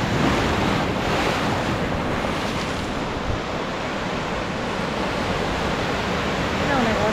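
Waves at the Surfland Brasil wave pool in Garopaba roar in a steady, loud wash of surf with wind rumbling on the microphone throughout, close and continuous.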